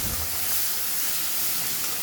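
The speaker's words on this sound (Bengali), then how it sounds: "মাছগুলো আগে ভেজে নেই।" Prawns frying in hot oil in a pan for a prawn curry with potato and onion, a loud, steady, close sizzle and hiss that runs unbroken throughout.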